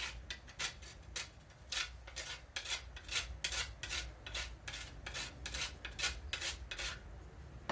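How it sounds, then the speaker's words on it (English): A whole nutmeg rasps across a small kitchen grater in quick, even back-and-forth strokes, about two per second, close and fairly quiet with no talking. "I've got a little nutmeg nut and grater"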